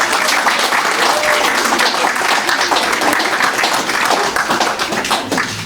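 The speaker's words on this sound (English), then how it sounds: "Let's give a round of applause to Peter." Audience at the opening of a community peace centre on Palm Sunday claps for Peter: loud, close, sustained applause from a modest crowd that continues steadily throughout.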